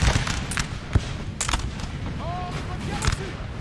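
Napoleonic-era artillery and musket fire on a 4v4 battlefield in Total War 3, with several sharp distant booms and cracks scattered over a constant battle din, and faint whistling tones partway through.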